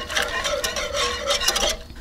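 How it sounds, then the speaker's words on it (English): A spoon stirs potato starch slurry into boiling sweet chili sauce in a pot, giving a rapid, rhythmic scraping and swishing that sounds close and fairly loud, with no voices. "Go ahead and mix that really well."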